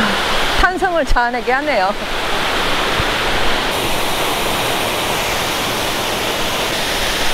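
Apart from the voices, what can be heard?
Towangseong waterfall, Seoraksan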